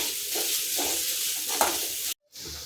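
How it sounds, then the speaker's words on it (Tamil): Sliced onions sauté on high flame in a pan for a meal maker gravy, a loud, steady sizzling hiss with stirring scrapes that cuts out briefly near the end. "நல்லா இந்த ஹை ஃப்ளேம்லேயே வச்சு இது நல்லா கோல்டன் ப்ரௌன் கலர் வர வரைக்கும் இதை நல்லா வதக்கி எடுக்கணும்."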